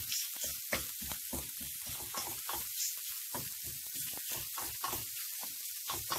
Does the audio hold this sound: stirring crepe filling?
yes